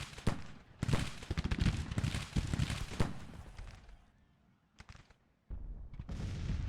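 Artillery firing in Grand Tactician: The Civil War: a dense run of loud booming shots and crackling volleys, then a fading lull and a few scattered reports before a heavy roll of fire resumes.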